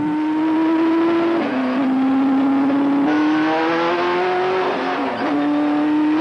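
A race car engine warms up at Jennerstown Speedway, sounding as a loud, steady close-up drone whose pitch dips and climbs with a few revs. No voices are heard over it.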